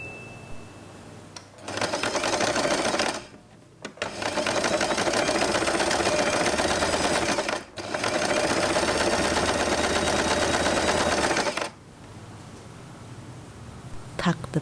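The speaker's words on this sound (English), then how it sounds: "Then randomly sew the elastic band." A sewing machine runs in three loud, fast bursts, stitching the elastic band of a long-tail scrunchie, with short pauses and fabric handling between runs.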